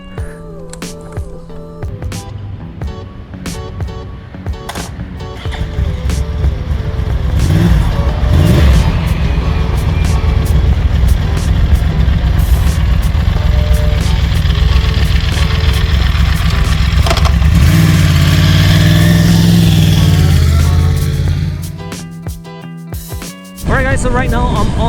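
Yamaha YZF R1 sport motorcycle ridden on a road in Singapore, its engine rising from a low idle into a steady, loud running drone with shifting pitch, wind rush throughout and a sharp drop near the end.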